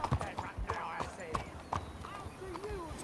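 A horse walking in the video game Red Dead Redemption 2 Online gives a steady, clear clip-clop of hooves, and someone talks over it throughout.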